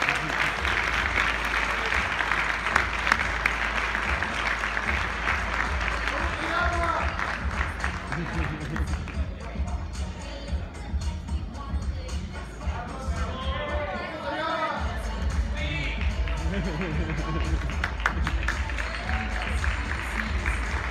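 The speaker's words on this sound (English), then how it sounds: "Let's give him a round of applause." Sustained round of applause from a convention audience in a large hall, with crowd chatter mixed in throughout the clapping at a steady, fairly loud level.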